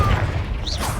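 A short, low booming blast from the Confringo fire spell in the video game Hogwarts Legacy, a single rumbling explosion lasting about a second with a brief whoosh near its end.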